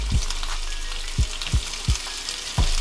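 Chopped peppers, scallion and onion fry in a pan for brown stew chicken, giving a steady close sizzle with several sharp low pops and knocks spaced through it.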